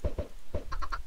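Chickens in the Minecraft video game, a few short clucking calls in quick succession, clear and close with no talk.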